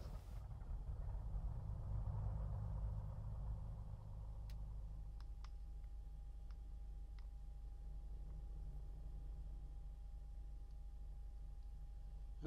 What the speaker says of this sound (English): I'm gonna turn the engines on.